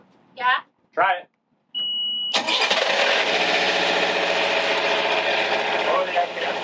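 Following a short beep from the boat's ignition, the boat engine cranks and catches, then runs loud and steady. A person speaks briefly just before it starts.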